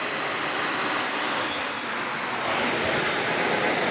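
An Alaska Airlines Boeing 737 MAX 9 arriving at San Diego International Airport, a loud, steady broadband jet roar that holds close and constant throughout.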